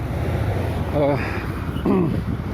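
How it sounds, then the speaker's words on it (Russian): Constant low rumbling wind in a snowstorm in Yakutsk buffets the microphone throughout, with brief snatches of voice breaking through the roar. "Вот ветер сегодня. Слышно, нет? Задувает, наверное."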